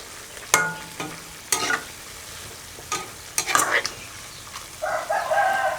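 Beef red curry made without coconut milk, with chillies and holy basil, stir-fried in oil: a soft sizzle under repeated spatula scrapes and clatters in separate bursts, with the frying swelling louder toward the end.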